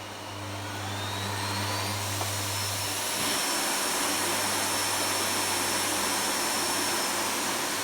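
Miele U1 Automatic upright vacuum cleaner switched on, its motor spinning up into a steady, loud whooshing roar with a low hum that drops partway through, running alone without talk.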